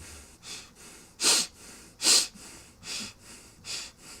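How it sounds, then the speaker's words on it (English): A didgeridoo player breathes in sharp, rhythmic breaths, about seven bursts close to the mic, two of them noticeably louder, with no drone or talking. "you can hear the difference in my breathing"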